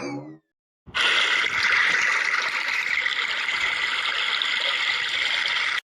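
Water flows steadily in a loud, constant rushing stream that starts abruptly after a brief silence and continues unbroken, with a faint voice just before it begins.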